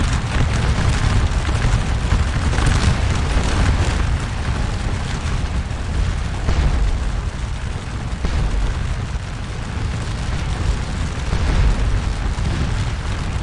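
Artillery fire in the Napoleonic battle game Scourge of War Waterloo: a steady, loud rumble of cannon booms that overlap into a continuous roar, with no voices.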